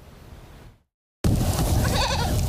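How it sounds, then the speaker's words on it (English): Billy goats at a farm eat Christmas trees, and a bleat rises over a loud, close, rustling outdoor background after a brief gap of silence. "I'm talking about the goats at Buttonhead Farms."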